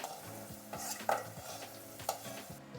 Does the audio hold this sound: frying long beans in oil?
yes